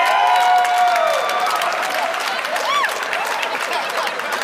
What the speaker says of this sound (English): I'm glad a lot of you are cheering